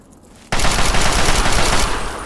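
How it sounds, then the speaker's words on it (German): Sustained automatic gunfire bursts in suddenly in the video game Fallout 3, a loud, dense, continuous rattle of rapid shots that carries on for nearly two seconds after a brief quiet lead-in. "Endlich wird hier mal wieder geschossen."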